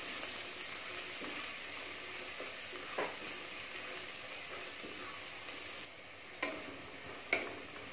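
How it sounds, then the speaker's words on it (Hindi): Finely chopped onions fry in a pan for a tomato chutney, giving a steady soft sizzle throughout with a few light stirring clicks and scrapes toward the end. "इसमें अब हम बारीक कटी हुई प्याज डाल देंगे। प्याज को भी हमें थोड़ा सा भूनना है"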